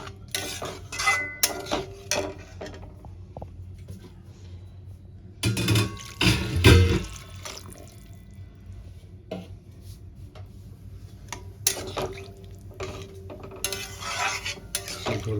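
A spoon scrapes and clinks against a pan as potato and egg curry is stirred after water is added, in irregular bursts up close with no talking.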